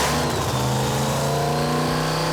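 A supercharged 526 Hemi drag car engine with a PSI blower, roughly 3,000 to 3,500 horsepower, roars loudly and continuously, its deep rumble holding steady and close throughout with no voices over it.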